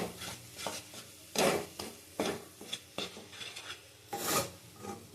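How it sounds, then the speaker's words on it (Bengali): Mankachu (giant taro) paste frying in a pan while a spatula stirs and scrapes it in repeated bursts, a soft sizzle beneath the close, rasping strokes. "এটা ভালো করে ভেজে নিতে হবে। যত ভাজবে তত কমে যাবে, সমানে নাড়া দিতে হবে।"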